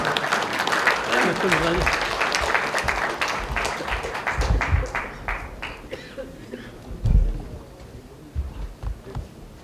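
Audience applause at a Buddhist book launch as the monk author is welcomed to the stage, a dense wash of clapping that thins out after a few seconds, with scattered claps and murmurs continuing.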